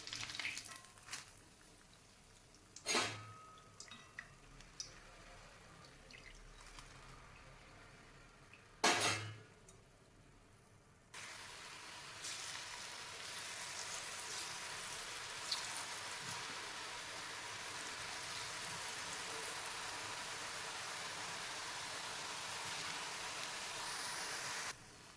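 Ribbon murukulu frying in hot oil, a steady loud sizzle and crackle that fills the second half, preceded by quieter bubbling and a couple of sharp utensil clanks.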